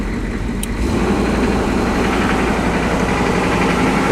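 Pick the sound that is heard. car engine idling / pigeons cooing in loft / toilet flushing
car engine idling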